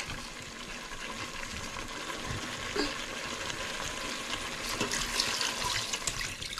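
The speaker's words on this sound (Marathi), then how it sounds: "आता पाणी टाकणार शिजासाठी" Water is poured into a kadhai of Malvani chicken curry, a soft splashing and bubbling hiss mixed with faint sizzling that swells toward the end, with no talking.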